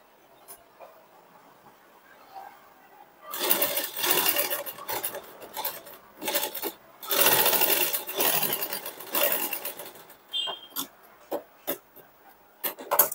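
Sewing machine stitching tucks into blouse fabric, several short bursts of stitching after a quiet start, fairly faint with small handling noises between runs.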